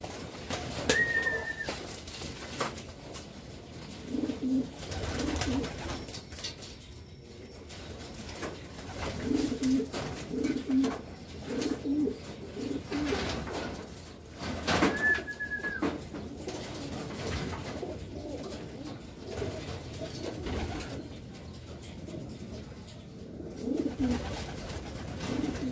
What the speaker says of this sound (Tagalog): Naunahan na itong bagong ibon natin.